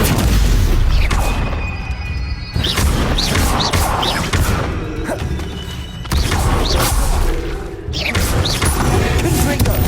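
Confringo blasting curses in the wizarding game Hogwarts Legacy: repeated loud fiery booms and crashes in rapid succession, layered with whooshing spell effects and mixed with a voice casting.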